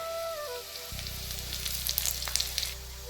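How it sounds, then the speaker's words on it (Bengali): Cumin seeds and onions frying in oil in a pan make a steady close sizzle, with a brief sharper crackle as the seeds hit the oil and scattered pops over the continuous hiss. "পেঁয়াজটা ভাজা হয়ে গেছে, দিয়ে দিব অল্প করে জিরা।"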